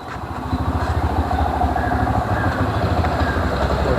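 An auto rickshaw comes up near a railway station, its small engine putting out a steady, rattling drone that stays loud and close for the whole stretch, with busy street noise around it.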